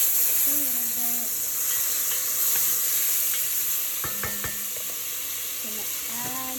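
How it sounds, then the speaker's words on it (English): Garlic browning in a Dutch oven with braised short ribs cooking, a steady broadband sizzle and hiss throughout, with occasional stirring clinks and faint voice fragments in the background. "I'm going to throw my garlic in there. I'm going to brown that a little bit."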